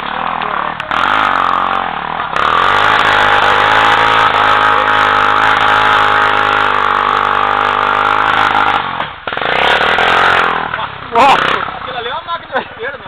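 A motorcycle engine drones steadily at close range on a night trail ride, its pitch rising and holding in long revs, with brief drops and sputters toward the end.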